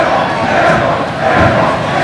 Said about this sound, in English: Linn-Mar crowd's ruthless.